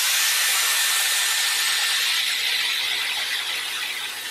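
Hair dryer running on its highest settings, a steady loud broadband whoosh held close to the ear, with no voices over it.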